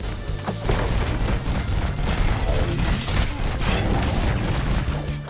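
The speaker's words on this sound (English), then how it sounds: "Bombastic Brothers is all about the guns and blowing things up." Gunfire and explosions in the arcade shooter Bombastic Brothers, a loud continuous barrage of rapid shots and booming blasts packed densely together with no pauses.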